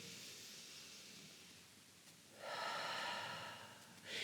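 Slow, even breathing during a full-body yoga stretch, soft airy hiss in a quiet room with two louder breaths near the end, one long and one brief.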